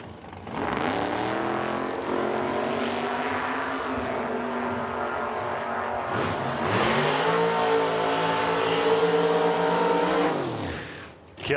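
A little Buick and a Camaro drag racing at a strip, engines revving hard and climbing through the gears in two surging runs, loud and close, with the sound dropping away at the end.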